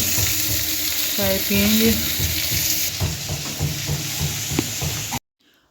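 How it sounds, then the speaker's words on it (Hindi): Jackfruit pieces frying in a pan, a loud steady sizzle with a few clinks of stirring. A person speaks briefly over the sizzle before the sound cuts off abruptly near the end. "आज बनाएंगे कटहल की सब्जी। काट के छील के अब इसको फ्राई कर रहे हैं"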